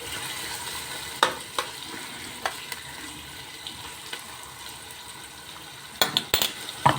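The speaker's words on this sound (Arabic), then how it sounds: "انا برضو ما بحمرهاش، انا بشوحها كده بس ما بحمرهاش" Onions with a little oil softening in a pan, a steady low sizzle with occasional stirring scrapes and a few sharper clinks of utensil against pan near the end, no talking.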